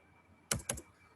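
Keys on a computer keyboard are pressed in quick succession, a few sharp close clicks separated by short pauses, with a quiet room behind and no talking.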